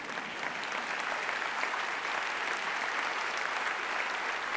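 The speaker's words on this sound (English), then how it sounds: "please clap for her" An audience claps continuously after a talk at an environmental conference, a thick, unbroken wash of many hands held at a steady, fairly loud level throughout.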